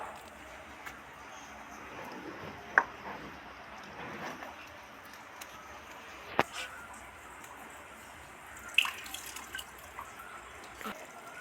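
Cut pieces of katla fish being washed in water in a kitchen, soft sloshing and trickling with occasional drips and small knocks, quiet and close, under a low background.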